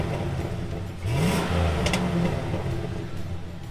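A Chevrolet Silverado V8 pickup engine revs up close, its low rumble swelling around the one-second mark and holding steady, a gruff mechanical drone with a bit of rattle and no talking.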